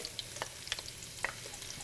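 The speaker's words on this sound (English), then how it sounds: "As you can see, they're going to sizzle up right away." Shallots and sliced garlic sizzle in hot oil with crackling pops and a few stirring clinks, fairly close and steady, with no one talking.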